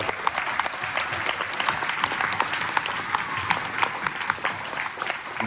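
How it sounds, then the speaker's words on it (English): Audience applause at a school board of education meeting honoring the elementary and middle schools, a steady crowd of many hands clapping in a room, sustained and even throughout. "we all should give a round of applause to our elementary and our middle school"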